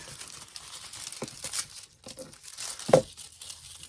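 Decorative foil sheet is cut and handled at close range, giving soft crinkling and crackling with scattered sharper snips and one louder rustle near the end.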